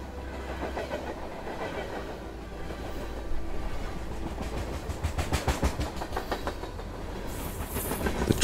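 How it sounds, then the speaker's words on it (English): A train rolls steadily along the tracks, a continuous rumble with a rhythmic clickety-clack that grows more pronounced toward the end. "The train begins to slow down. The chugging sound does also."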